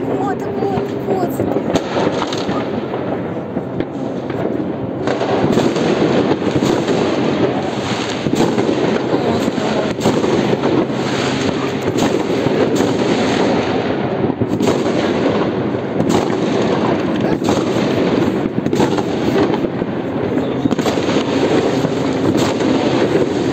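New Year fireworks bursting over a city near Khersonskaya street, a dense, continuous barrage of booms and crackles heard from a distance through wind noise, with people talking over it.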